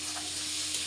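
Potatoes frying in hot oil in a wok, a steady close broadband sizzle with a constant low hum beneath and no talking.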